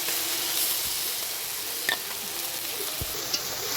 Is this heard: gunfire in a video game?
no